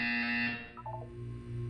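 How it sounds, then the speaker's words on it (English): In the video game Portal 2, a test-chamber buzzer sounds as a sharp electronic tone that drops away, followed by a short run of bleeping tones and a lower hum, heard alone. "When you hear the buzzer, look down at the floor."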